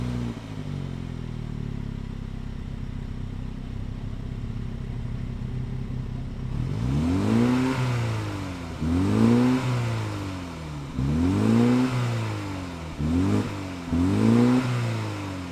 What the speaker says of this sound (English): let's fire this up and hear what kind of sound this Mini Cooper S makes